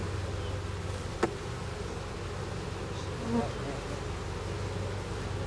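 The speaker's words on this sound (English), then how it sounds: "That's still a lot of bees." Continuous low buzzing of many bees, a dense steady drone with a brief click partway through.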